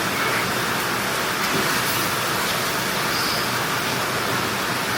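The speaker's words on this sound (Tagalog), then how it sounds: "Malakas ang ulan." Heavy rain falls in Palawan, Philippines, as a dense, loud, steady hiss that fills the whole stretch without a break, with no voices over it.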